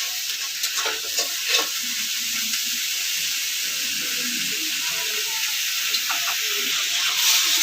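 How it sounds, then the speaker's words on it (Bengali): Potato, onion and eggplant fry in a pan with a steady, close hissing sizzle and occasional stirring scrapes, continuous throughout with no talking. "বেগুনটা দিয়ে আলুর সাথে ভালো করে মিশিয়ে আরও কিছুক্ষণ ভাজবো।"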